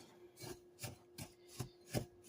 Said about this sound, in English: I'm just going to sit here and keep rubbing this all together, or stirring this all together rather